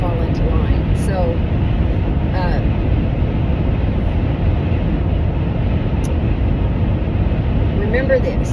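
A car on the move with a poor-sounding, unhealthy engine or ride fills the space with a loud, steady broadband rumble that never lets up, while faint traces of a voice drift in and out beneath it.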